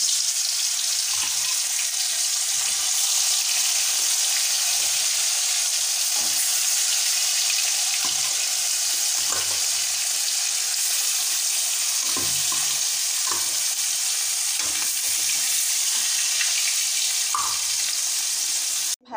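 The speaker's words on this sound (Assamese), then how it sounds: "তেলটো গৰম হৈছে, মই এয়া মাছ দি" Fish frying in hot oil in a wok, a steady dense sizzle that carries on for the full stretch with occasional small pops and clinks, and no talking.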